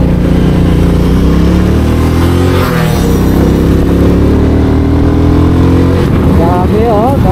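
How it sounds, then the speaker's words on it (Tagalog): Many motorcycles pass close by in a steady, loud roar of mid-range engine drone, with revving surges and shifting pitch throughout, along a road near a riverside and seaside campsite. "Grabe oh, daming motorsiklo."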